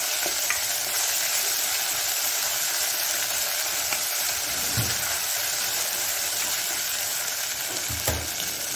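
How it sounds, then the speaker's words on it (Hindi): Ginger garlic paste fries in a pan over medium heat for an eggplant and fish curry, giving a steady, close sizzle throughout with a couple of soft stirring knocks and no voices. "अदरक लहसुन को थोड़ा सा फ्राई कर लिया था"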